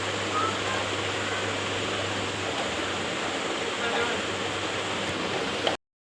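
Water runs steadily from a tap or shower as someone bathes at home, a constant close hiss with a low hum in the first half, cutting off abruptly near the end.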